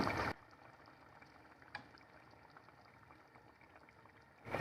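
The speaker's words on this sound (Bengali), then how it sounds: "এবার আমি ঢাকনা খুলে রান্না করব 5 মিনিট।" Zucchini kebab curry simmering uncovered in a pan gives a faint, steady low bubbling, with a brief soft tick in the middle and louder kitchen noise at the very start and end.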